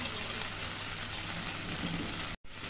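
Chopped tomatoes sizzle and fry steadily in a pan with softened onion stalks for a Bengali fish curry, a dense continuous crackle throughout, with a brief dropout near the end.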